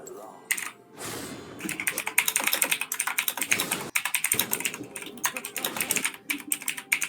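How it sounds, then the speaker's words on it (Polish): Rapid clattering keystrokes on a computer keyboard, near and fairly loud, in continuous bursts with brief pauses throughout. "odwalasz na tej klawiaturze"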